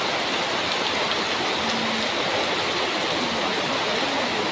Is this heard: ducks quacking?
no